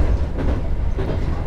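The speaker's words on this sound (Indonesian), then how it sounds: "kereta api Progo yang akan mengantar kita ke tujuan akhir stasiun Pasar Senen" The Progo executive train runs on rails with a loud, steady rumble heard from inside the carriage, with faint rhythmic wheel clatter under the dense low roar.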